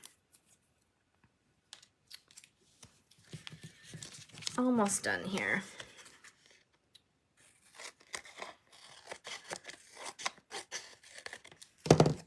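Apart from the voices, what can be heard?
scissors cutting card paper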